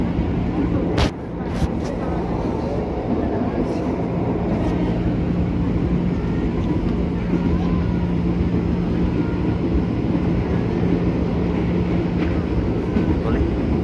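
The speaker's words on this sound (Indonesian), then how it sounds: "masih di jalur di kereta api yang sama." Steady rumble and rattle of a commuter train ride in Jakarta on the line from Besing toward Grogol, loud and continuous throughout, with a couple of brief clacks near the start.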